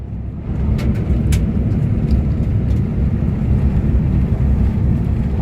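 A 2003 Toyota Hilux 4x4 pickup with a swapped 3UZ-FE Lexus 4.3 V8 cruises in fifth gear at about 60 km/h, giving a steady, loud low engine drone with road rumble and no pauses.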